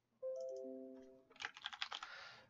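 Fast clicking of computer keyboard keys, a brief quiet burst of typing that follows a short tonal chime, heard close up.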